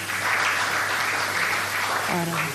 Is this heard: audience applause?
yes